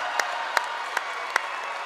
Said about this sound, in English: listen to the crowd come to their feet